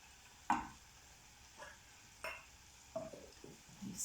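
Syrup being stirred into melted butter in a pan while making Anzac biscuits: a few soft, separate scrapes and taps of the spoon against the pan, spaced about a second apart, close and fairly quiet.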